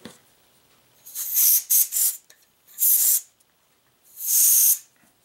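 Canned compressed air, the last can from Costco, sprays through a new nozzle in a shop in three sharp hissing bursts of about half a second each, with short gaps between them and no voices.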